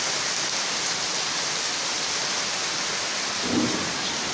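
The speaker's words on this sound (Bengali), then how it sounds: "প্রচুর বৃষ্টি হচ্ছে" Steady heavy rain hisses without pause, with a brief low rumble near the end.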